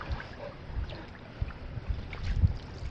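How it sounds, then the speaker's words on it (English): A canoe is paddled on a choppy lake, with soft, low water sloshes and paddle strokes under steady wind noise on the microphone, fairly quiet and with no speech. "So good to be paddling again."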